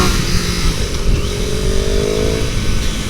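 Engine of a 2024 Triumph Daytona 660 motorcycle revving hard toward its 14,000 rpm limit, a loud, close, sustained buzzing roar that climbs in pitch across the clip with no speech.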